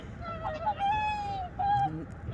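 Eurasian coots, wintering migratory birds on a river at Yangsuri, give a few short, nasal, honking calls in close succession, fairly near and clear over faint background murmur.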